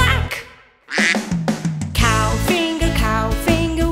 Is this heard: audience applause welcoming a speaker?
no